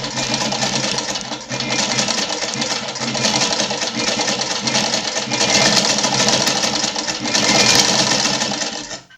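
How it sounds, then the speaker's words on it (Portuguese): A Vigorelli Pretinha sewing machine driven by a motor controller stitches fabric, a loud, steady mechanical whirr with a rapid needle rhythm that swells and eases slightly over several seconds, with no voices. "Agora é só acionar o controlador do motor e começar a costurar."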